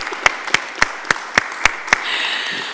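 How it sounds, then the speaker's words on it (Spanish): An audience at a startup discussion event claps in a steady rhythm, seven evenly spaced sharp claps, before a broader burst of applause begins. "Vamos a dar un aplauso, por favor"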